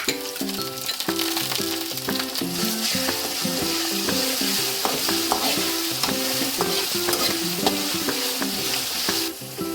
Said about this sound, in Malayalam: ഇനി നമുക്കിതിലേക്ക് പേസ്റ്റ് ഇട്ട് കൊടുക്കുക ഇഞ്ചിയും വെളുത്തുള്ളിയും പച്ചമുളകും